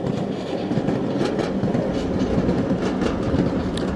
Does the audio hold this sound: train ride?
yes